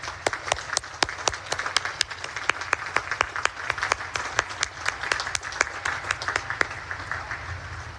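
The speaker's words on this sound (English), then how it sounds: "How about one more round of applause for our parents" A large outdoor crowd at the United States Naval Academy graduation ceremony in May 2024 gives a round of applause for parents, a steady roar of clapping with distinct sharp nearby claps standing out throughout.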